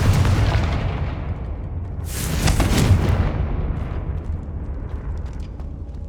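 A Confringo fire spell blast in Hogwarts Legacy: an ongoing low rumble swells into a bright, crackling burst of fiery explosions with sharp flares, then settles back into a fading, booming roar.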